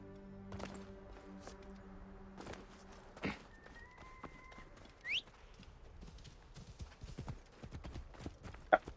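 A horse's hooves clop on the ground in Assassin's Creed Origins, a series of scattered hoofbeats that are loud and close, with faint game tones and ambience underneath.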